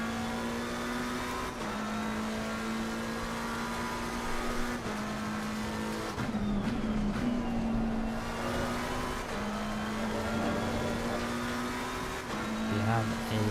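GT3 race car engines at Imola in a racing sim, a steady high engine drone rising and dropping through gear shifts, with a commentator talking over it throughout.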